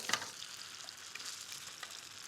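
Dumplings searing with herbs in hot oil, giving a steady, fairly soft hiss of frying throughout, broken by a few faint crackles and one brief louder pop near the start.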